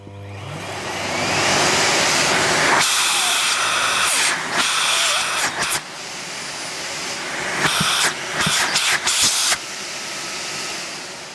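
A Miele S4812 hybrid vacuum cleaner runs at full suction with a loud, steady roaring hiss, broken by several sharp dips and surges as the airflow is blocked and released.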